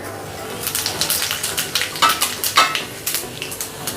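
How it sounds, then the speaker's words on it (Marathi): Cumin seeds hit hot oil while tempering spinach dal, making a close sizzle broken into quick, rhythmic crackling bursts with light metal scrapes of stirring. No voices are heard. "तेल गरम झालेलं आहे जिरे घालते"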